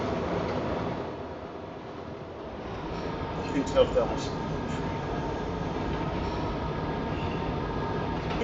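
A subway train runs steadily in a video game, a continuous low rumble of wheels and motor with faint rail clatter throughout, while a person talks over it.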